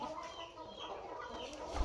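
Chickens clucking close by, a steady low chatter of hen calls with a bit of rustling, no voices.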